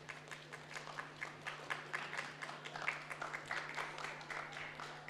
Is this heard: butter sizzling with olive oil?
no